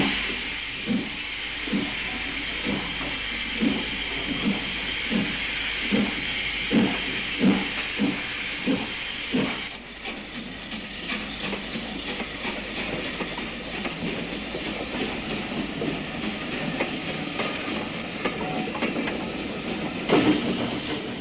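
A steam locomotive hauls a train through Sussex countryside, its wheels beating a steady clickety-clack for the first half before easing into a continuous rolling rumble and hiss, loud and close with no voices.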